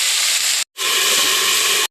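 Vegetables sizzle loudly in a hot kadai, a dense hiss that runs steadily, cuts out briefly for a moment, then resumes just as strongly without any voices.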